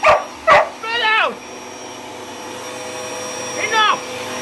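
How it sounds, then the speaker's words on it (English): Vacuum cleaner hum running steadily while a dog attacks it, with sharp yips, barks and whining whimpers in short bursts near the start and again toward the end. "Let me hoover up!"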